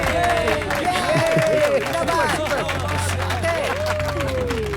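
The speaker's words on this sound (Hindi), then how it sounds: "तालियां बजाओ।" Crowd applause with clapping mixed into a loud, continuous hubbub of many voices chattering and calling out at once.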